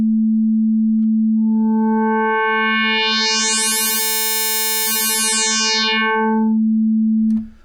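Manatee synth sine oscillator holding one sustained note while its FM content and LFO2 controls are swept, so the tone grows bright and buzzy with rich harmonics and then thins back toward a pure sine.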